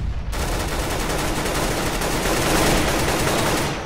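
Loud, dense automatic gunfire in the CS:GO shooter game, a continuous rapid barrage lasting several seconds with no talking.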